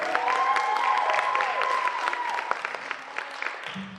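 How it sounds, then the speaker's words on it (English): An audience at a high school spring dance company recital claps steadily for a dance soloist, the applause fading toward the end, with a voice briefly speaking over it. "Can you give me another round of applause for Chloe the soloist there?"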